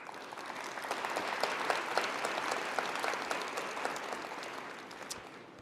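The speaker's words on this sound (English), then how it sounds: "So they are due a great thank you and round of applause." Applause at a science conference gathering, a fairly quiet but full round of clapping with distinct individual claps standing out, swelling early, holding, then tapering off at the close.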